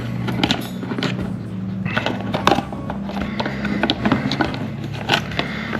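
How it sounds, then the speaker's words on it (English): A nylon lock nut being screwed onto a knitting needle pushed through a plastic box, a close run of small clicking, ratcheting and scraping sounds against the hollow plastic, uneven and continuous. "I'm going to screw my nylon lock nut"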